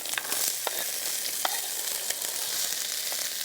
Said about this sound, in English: I'm going to start adding the onions, or the shallots rather, and the broccoli and the celery into the pan